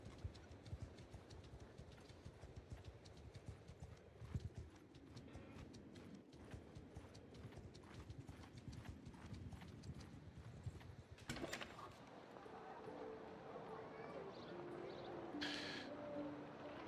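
Hooves clip-clop in a steady walking rhythm in a fantasy video game, soft and fairly quiet, with a brief louder burst near the end.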